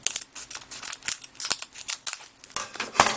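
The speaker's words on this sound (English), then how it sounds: "Gotta cut these open." Scissors snipping open a Japanese Pokémon booster pack, a run of quick crisp cuts through foil packaging in uneven rhythm, close and clear with no talk.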